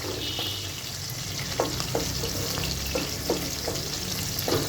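Garlic frying in a pan for homemade garlic pickle, a steady close sizzle with light stirring clicks and scrapes every half second or so, no voices.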